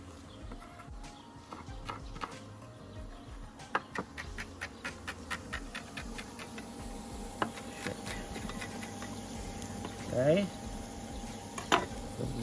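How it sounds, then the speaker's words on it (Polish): Onion crackling and popping as it fries in hot olive oil, a scatter of sharp ticks over a low bubbling, with a faint voice in the background. "Rzucam na rozgrzaną oliwę cebulę."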